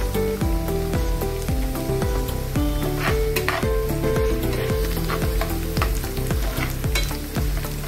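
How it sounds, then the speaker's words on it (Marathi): Chopped onion with turmeric, salt and a little sugar fries and is stirred in a pan for a Marathi bread bhaji, giving a steady loud sizzle with rhythmic scraping strokes roughly every half second, alone without talk. "आता हा कांदा भाजत आलाय"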